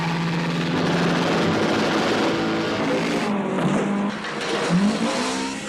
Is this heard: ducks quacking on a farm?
no